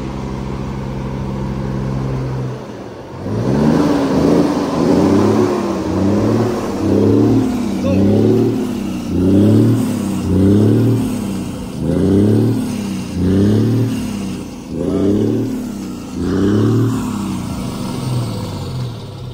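A Scania truck engine with a 620 hp remap revs hard in a steady series of about ten repeated throttle blips, deep, loud and close, with no talking over it.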